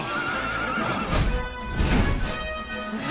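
A horse in Dragon Quest 11 lets out loud, close whinnies with hoof clip-clops, the neighs rising in two sharp bursts over a steady game background.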